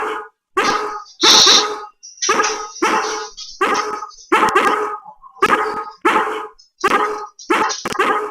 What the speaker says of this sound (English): The dog in the game makes my dog bark.